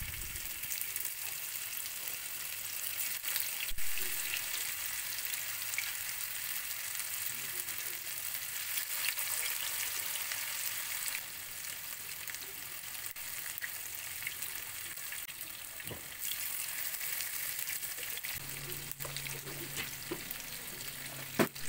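Marinated fish pieces frying in hot oil with curry leaves for a Kerala-style fish fry, giving a continuous, even sizzle with occasional faint stirring clicks that holds steady for over twenty seconds, with no talking.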